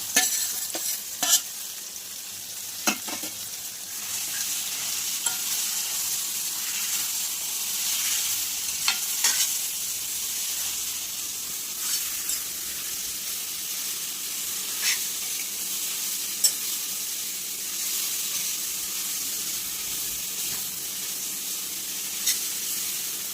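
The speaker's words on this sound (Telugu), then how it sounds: "క్యారెట్ మ్యాంగో తురిమింది వేసేసుకొని కొద్దిసేపు ఉడికించుకోవాలి." Grated carrot and mango cooking in a pan over a fried tempering for a pachadi, giving a steady soft sizzle and hiss, broken by occasional sharp clicks of stirring, with no talking.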